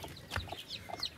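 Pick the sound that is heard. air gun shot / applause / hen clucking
hen clucking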